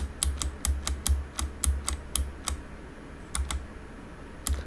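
Computer keyboard keys pressed repeatedly to work the rudder in Microsoft Flight Simulator 2020, a close run of sharp clicks in an uneven rhythm, pausing briefly before a few more taps, no talking.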